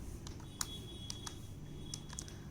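Quick, light keystrokes tap on a computer keyboard in an uneven rhythm, close by, over a low steady hum.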